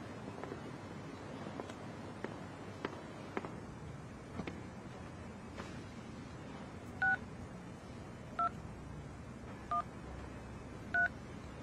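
Telephone keypad dialing tones sound while placing a call: four short, evenly spaced beeps in the latter half, clear against a quiet room with faint soft clicks earlier.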